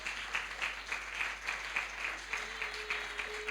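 A church congregation applauds in honour of the children, a soft, steady patter of many hands heard at a distance and fairly quiet, holding evenly through the moment.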